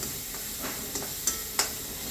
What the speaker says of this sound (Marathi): त्याला थोडं परतून घ्यायचं आहे तर परतून झालेलं आहे